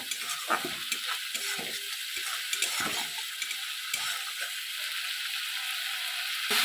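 Spice paste (masala) frying in a pan: a steady, close hiss of sizzling oil with scattered scraping and stirring clicks from a utensil, no voices.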